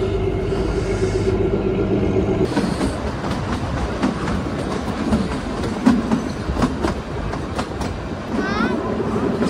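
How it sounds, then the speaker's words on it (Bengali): The Kalka–Shimla toy train pulls out of Dharampur in Himachal with a steady rumble and rhythmic clickety-clack of wheels on rails, loud and close, with faint metallic squeals and voices in the background. "ধরমপুর হিমাচল থেকে আমাদের ট্রেন ছেড়ে দিল"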